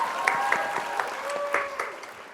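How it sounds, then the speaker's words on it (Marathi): Two hosts clap briefly for a contestant, a short burst of scattered hand claps close to the microphone, partly mixed with a faint voice. "एकदा तुझ्यासाठी आम्ही दोघी जण टाळ्या वाजवल्याच पाहिजे"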